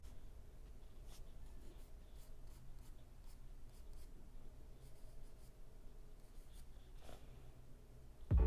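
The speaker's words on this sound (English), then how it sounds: "I've switched over to a softer pencil. It's actually a charcoal pencil here" A soft charcoal pencil draws on paper in faint, close, scratchy strokes that come in an irregular rhythm over a quiet room hush.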